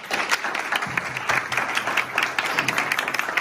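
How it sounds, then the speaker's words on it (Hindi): An audience at a Hindi religious teaching session in Chikhaldara, Maharashtra, breaks into dense, steady applause that carries on evenly at moderate volume. "ओके, ताली बजा सकते हैं"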